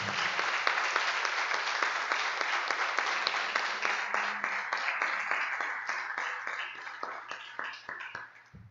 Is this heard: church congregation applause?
yes